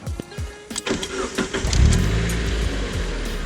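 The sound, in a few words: stock car engine starting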